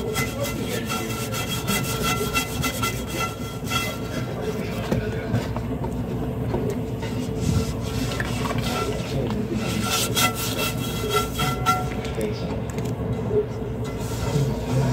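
A Dawn dish scrubber scrubbing a pot makes continuous close, rough rasping strokes that run without letup, with faint background noise underneath.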